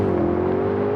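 Two performance sedans, a new BMW M5 and a Mercedes-AMG E63 S, accelerate hard off the line in a drag race, giving a steady, loud engine drone with a slowly rising pitch over a brief second.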